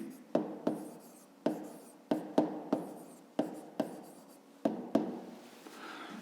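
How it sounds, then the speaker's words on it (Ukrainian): A pen writes on paper up close, with a series of sharp tapping strokes and short scratchy scrawls across several seconds, some in quick pairs, each fading quickly, no voices. "давайте їх записувати"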